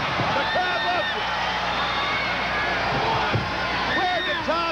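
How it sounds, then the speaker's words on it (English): A wrestling crowd roars steadily after a suplex in an AWA match between Hacksaw Butch Reed and Tom Zenk, with a commentator talking over the noise. "Zenk with a suplex. The crowd loves it."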